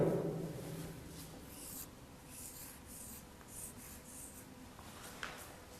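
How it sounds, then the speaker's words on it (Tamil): A teacher writes a word on a board. Faint scratchy strokes and rubbing come in short bursts against a quiet room, with no talking. "இப்போ நான் எழுதுகிற வார்த்தையை கவனிங்க."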